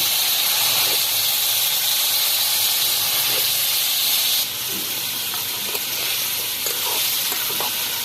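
Chopped papaya and potato hit hot oil with onion in a pan, a loud, close, steady hissing sizzle that eases slightly partway through, with faint stirring clinks.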